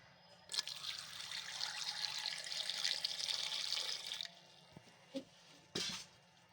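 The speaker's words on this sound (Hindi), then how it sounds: "1 कप पानी का ऐड करेंगे इसमें हम" A steady trickle of water pours into a pressure cooker holding carrots for about four seconds, then stops, followed by a few soft clinks and knocks of metal.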